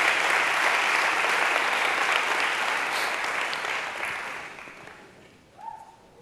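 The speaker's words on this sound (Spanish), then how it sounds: "Den un fuerte aplauso a Jesús por esta palabra" A church congregation claps together in a loud, dense burst of applause that holds steady, then thins and fades near the end as a voice briefly comes in.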